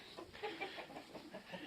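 Gournay hens cluck softly in a coop, a quiet run of short, irregular clucks with no voices.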